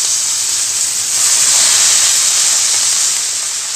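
Coriander leaves sizzling in hot oil in a pan while making malli chutney, a steady broad frying hiss that holds close and loud throughout with no pauses.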